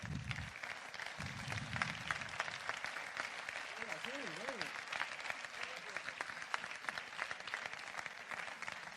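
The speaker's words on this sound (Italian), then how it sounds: "Alcamo vi applaude perché ve lo meritate, portate questo applauso." An audience at an awards ceremony in Sicily claps in sustained, dense applause that stays steady throughout, with voices and a brief sung or spoken phrase heard over it.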